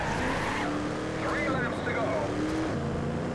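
A car drifting in the Trackmania Turbo racing game on a canyon track, steady engine roar with rising and falling tire squeal through the slides, loud and close, with a voice speaking over it.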